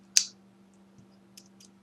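A mechanical keyboard with blue switches gives one sharp, close click followed by a couple of fainter clicks and taps, sparse and isolated against a quiet background.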